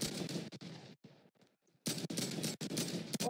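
Rapid bursts of video-game gunfire fired at an incoming RPG player, loud and close, with a short lull in the middle before the shooting resumes in fast repeated volleys.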